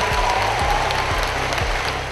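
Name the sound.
applause and standing ovation at ceremony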